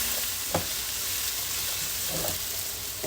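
Mushrooms and onions sauté in a hot pan, a steady close sizzle with a few brief stirring scrapes and clinks over it.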